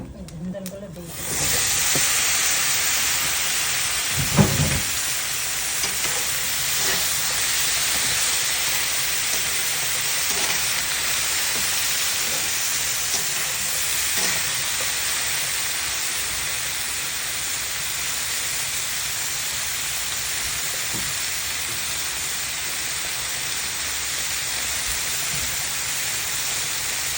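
Sponge gourd with black cumin frying in a pan gives a loud, steady sizzle and hiss that continues unbroken throughout, with an occasional faint clink.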